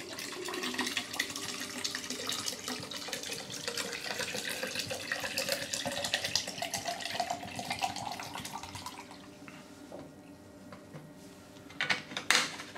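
Preservation liquid is poured into the tube of a HiFlo RO30 reverse osmosis system, a steady close splashing trickle that runs for several seconds, then tapers off with a few brief knocks at the end.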